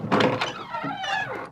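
A door opens in an old radio drama, a short creaking thunk with a scraping, groaning sweep lasting about a second and a half.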